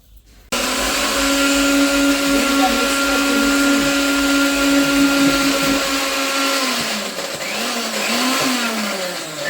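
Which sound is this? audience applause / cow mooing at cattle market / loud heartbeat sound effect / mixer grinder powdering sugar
mixer grinder powdering sugar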